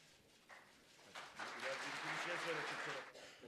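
An audience at a Turkish-language teaching event breaks into applause as performers come on stage, building over a couple of seconds and then fading, with some voices mixed in.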